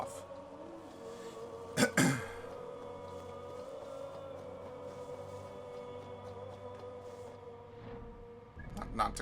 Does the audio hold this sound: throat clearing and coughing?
yes